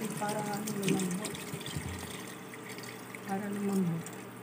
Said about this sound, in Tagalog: Ayan guys, nalagyan natin ng tubig para lumambot.